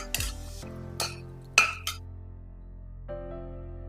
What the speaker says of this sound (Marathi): व्यवस्थित असं याला हलवून घ्यायचं आहे